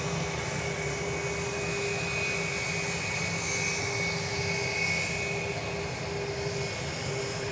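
Airbus A321 jet airliner at a runway at DFW airport, a steady distant jet engine roar with a faint whine, continuous and fairly quiet, with no talk.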